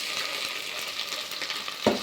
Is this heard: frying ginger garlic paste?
yes